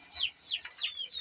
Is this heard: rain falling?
no